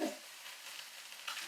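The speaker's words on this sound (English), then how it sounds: "can you hear the sizzle?" Romaine lettuce sizzling on a grill, a steady hissing fry that runs throughout, faint and close, with no speech.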